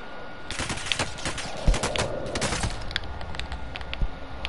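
Rapid bursts of automatic gunfire from Call of Duty Warzone crackle in quick, uneven volleys, some sharp and close, others fainter, with brief gaps between them and no talking over them.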